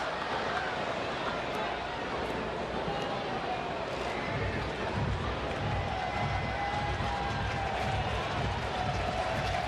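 Large evening crowd of about 30,900 at a Major League Baseball game between the Phillies and Cincinnati Reds, a steady dense roar of murmuring fans filling the stadium with no distinct cheers standing out.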